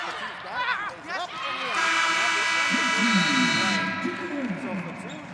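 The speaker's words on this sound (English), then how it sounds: "So Platoon Young gets a rebound just before the buzzer." A loud, sustained buzzer sounds at a women's college basketball game, Purdue in the Big Ten, holding for about two seconds while a commentator talks and the crowd noise rises around it.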